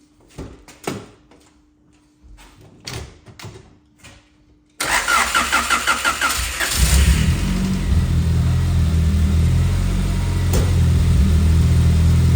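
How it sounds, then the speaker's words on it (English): Honda CB7 Accord engine starting after a Walbro 255 fuel pump install: faint clicks, then the starter cranks and the engine catches, settling into a loud, steady idle close by. "Okay, so we'll try and start the engine."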